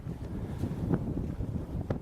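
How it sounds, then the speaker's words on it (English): Strong wind buffeting the microphone atop a cliff above Ilsan Beach, a continuous low rumbling roar with gusty swells and no voices. "Lots and lots of wind."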